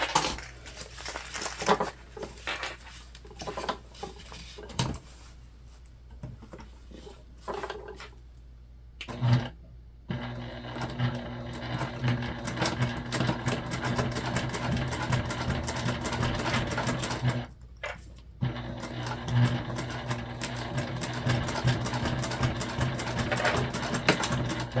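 Sewing machine top stitching a modified Lindsport Mini Backpack, running in long steady bursts of rapid mechanical whirring with brief pauses and clicks between runs, close and fairly loud.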